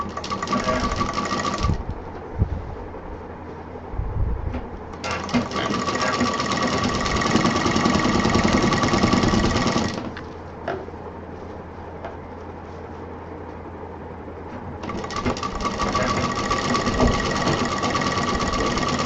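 A sewing machine stitches a zip straight onto a double-pocket tote bag, running in three long, steady bursts separated by quiet pauses with faint handling clicks; close and clear, with no talking.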